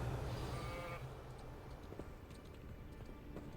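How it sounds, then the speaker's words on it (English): A sheep in the video game Hogwarts Legacy lets out a single bleat near the start, over a steady game ambience with faint hoof-like clopping. "That was a sheep."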